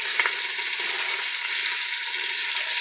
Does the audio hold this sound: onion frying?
yes